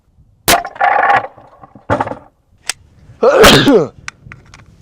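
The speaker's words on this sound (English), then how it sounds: "10mm against our cutting boards. Firing." A 10mm pistol fires into stacked wooden cutting boards with a sharp, loud crack, followed by splintering and clattering wood, a second burst of cracking debris, and brief scattered knocks in otherwise quiet surroundings.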